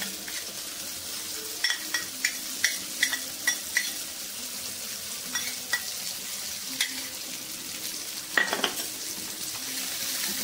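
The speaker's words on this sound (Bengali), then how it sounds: "এবার এই দিয়ে দেবো, দইটা দিয়ে দেবো।" Yogurt stirred into a cooked-down tomato masala for restaurant-style chicken do pyaza, giving a steady low sizzle with a spoon or spatula clinking against the pan in scattered strokes, close by and without talk.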